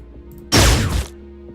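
A single gunshot in the turn-based strategy game Xenonauts: a sharp, loud burst with a short, rough tail lasting about half a second, set against a faint background hum with no talk over it.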